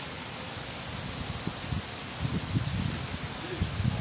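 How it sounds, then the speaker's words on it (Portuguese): Light rain falling outdoors under a tree in a steady diffuse hiss, with soft irregular patters and gusts of wind, fairly close and moderately loud throughout. "Tá dando uma chuvinha."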